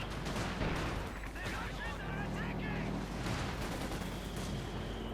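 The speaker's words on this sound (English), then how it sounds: "Mortar fire there." Mortar fire in Company of Heroes 2, dull distant thuds within a dense, continuous battle din of gunfire and rumble, with a voice speaking over part of it.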